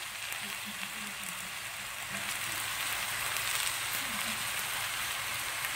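Sardine gratin with tomato, parsley, coriander and spices sizzles steadily in the pan, a dense continuous crackle with faint voices in the background.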